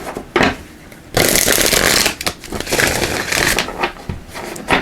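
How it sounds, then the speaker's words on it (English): Tarot cards being shuffled up close, with loud riffling bursts and pauses between shuffles, no talking over them. "A couple more shuffles."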